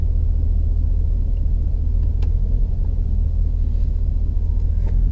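A GMC/Chevy truck engine idles rough with a loud, steady low rumble from inside the cab, a slightly uneven throb as the RPMs wander, and no one speaking.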